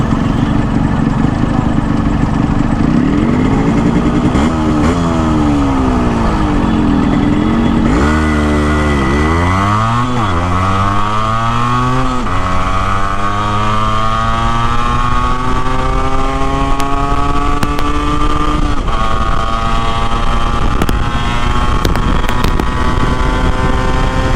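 Yamaha RX100 two-stroke motorcycle revs hard in a 0-100 speed test, loud and close, repeatedly climbing through gears with rising whining engine pitch, brief drops between shifts, no talking.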